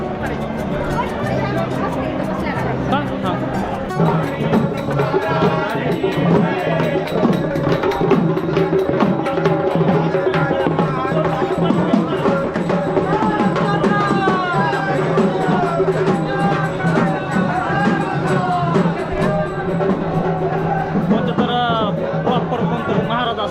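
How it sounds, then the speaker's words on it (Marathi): Dense crowd of visitors queueing at the Khandoba temple at Jejuri fort on a busy Sunday, a loud continuous hubbub of many overlapping voices close around, with a nearby voice briefly answering. "रविवार आहे त्याच्यामुळे खूपच गर्दी आणि लाईनीला खूप थांबलेले लोक आहेत"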